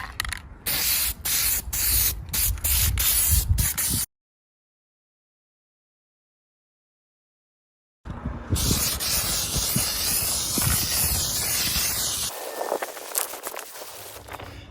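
Spray painting the frame of a John Deere LA165 lawn tractor: a steady, close, loud aerosol hiss in repeated bursts, broken by a few seconds of silence, then a long continuous spray pass.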